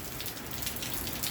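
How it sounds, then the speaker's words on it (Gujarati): Heavy rain pours steadily on the village of Chhara, a dense, even hiss of drops hitting surfaces close by with no pauses or voices. "આજે વરસાદ જોરદાર હતો અને જોરદાર ચાલુ જ છે"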